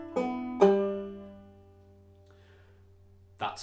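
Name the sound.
clawhammer banjo playing a bar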